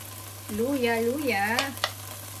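Ginger drops into a pan of softened onion, which gives a soft sizzle and stir-frying under a short, sing-song voice and a low steady hum.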